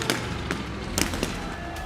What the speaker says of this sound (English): the quiet and serene beaches of Thailand were shaken up by loud explosions and gunfire.